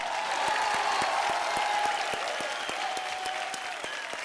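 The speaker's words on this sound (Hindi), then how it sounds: "जोरदार तालियां हो जाए।" A studio audience at a TV comedy show bursts into loud, sustained applause, a dense wash of clapping that stays steady throughout with a faint crowd murmur underneath.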